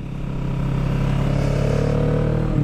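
A Kawasaki Vulcan S motorcycle engine revs while being ridden, a loud, close, steady droning hum that builds slightly at the start and holds with no talking.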